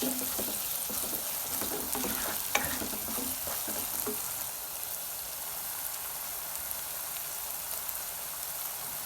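Steady broadband sizzle of food roasting in a hot pan for dhaba-style chana dal, with a few stirring scrapes and clinks early on, then continuous crackling hiss alone.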